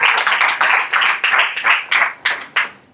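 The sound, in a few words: congregation clapping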